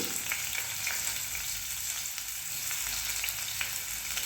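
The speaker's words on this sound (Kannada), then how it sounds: "ಈಗ ಆಯಿಲ್ ಬಿಸಿಯಾಗಿದೆ, ಈರುಳ್ಳಿ ಹಾಕೋಣ." Onions, with curry leaves, frying in hot oil for an egg curry, a steady dense sizzle and crackle heard close up, with a few faint stirring ticks and no talking.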